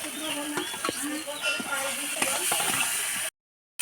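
Fish heads fry in a spice paste in a pan, a steady hiss and sizzle with scattered scraping clicks of stirring, moderately close, before a brief cut to silence near the end.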